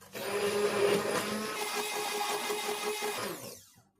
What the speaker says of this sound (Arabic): طبعا تفضلي تضربي لغاية ما السكر يدوب